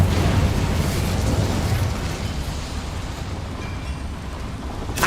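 The Incendio fire spell is cast in Hogwarts Legacy, setting off a loud, deep roaring burst that slowly fades into a sustained fiery rumble.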